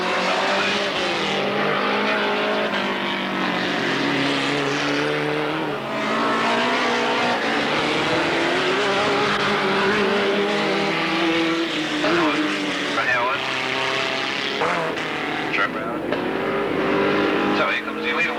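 Super Mods race cars at the start of a race at Alwalton, with loud, sustained engine roars and revving throughout while a commentator talks over them.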